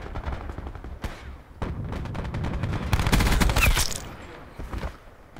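Rapid-fire Switchblade X9 submachine gun bursts in Black Ops 4, dense overlapping shots forming a loud sustained fusillade that swells in the middle and tapers off.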